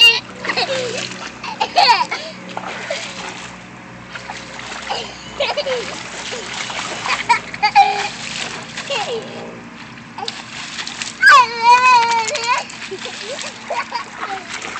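Water splashes repeatedly onto a small child outdoors after rain, in irregular sloshing bursts mixed with a child's babbling and adults talking nearby.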